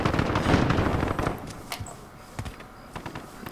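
Gun firing in a gun game shooter, a dense burst of rapid shots at the start and then a few scattered single shots and clicks, fairly close.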